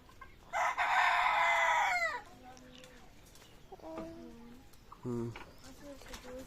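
A rooster crows loudly nearby in one long call, followed by softer clucking from chickens.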